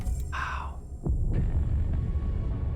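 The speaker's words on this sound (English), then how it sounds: "That heartbeat thump in the background." A low, soft heartbeat thump pulses in the background of the In Other Waters video game, a muffled throbbing rumble under faint ambient tones.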